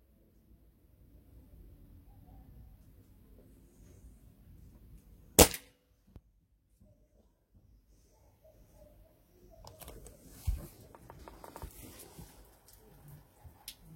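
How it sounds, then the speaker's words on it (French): A Stoeger RX20 TAC Dynamic air rifle fires before its trigger is modified: one sharp, loud, snapping shot breaks an otherwise quiet stretch, followed later by soft mechanical handling clatter. "Tir avant modification de la détente telle que je l'avais réglée."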